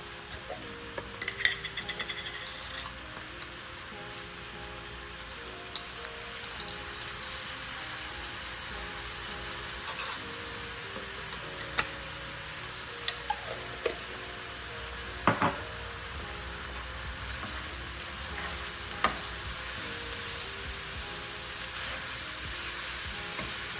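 Garlic sizzling in a pan, a fairly quiet steady frying hiss punctuated by sharp clinks and taps of a utensil against the pan, with no talking.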